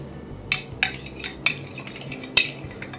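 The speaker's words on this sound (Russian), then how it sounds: "Перемешиваем хорошенько." Spoon clinks against a bowl while foamy risen yeast mixture is stirred for donut dough: several sharp, bright taps spaced irregularly over a quiet, close background, with no talking.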